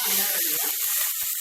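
Onion drops into about a spoon and a half of hot oil for a Malwani crab masala, raising a short burst of bright, close sizzling hiss.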